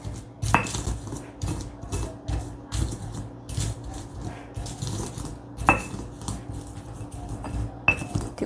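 Roasted salted peanuts pounded with a pestle in a mortar for peanut sambal, giving a series of close, irregular clinking and thudding knocks over about eight seconds.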